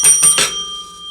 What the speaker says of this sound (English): I'm sorry, I had to ring the bell on you.